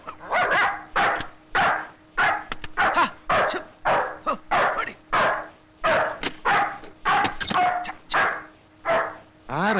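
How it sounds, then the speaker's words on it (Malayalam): A dog barks repeatedly at close range in a rural home setting from an old Malayalam film scene, sharp barks and yips coming in quick bursts throughout, with a voice briefly heard among them. "പട്ടി വല്ലാതെ കുറയ്ക്കുന്നുണ്ടല്ലോ."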